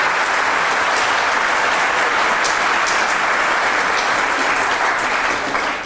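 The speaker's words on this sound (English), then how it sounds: "can you give him a huge round of applause" Loud, dense applause from a morning audience welcoming a guest speaker at an autism talk, a steady wall of clapping sustained for about six seconds with no voices over it.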